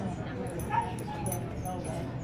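Dog whimpering and yipping during a level 3 nosework search class, brief high whines under a trainer's talk, fairly close.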